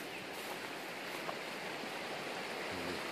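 The small Jemez River at a New Mexico cottage flows steadily nearby, a continuous even rushing wash of water with no other distinct sounds.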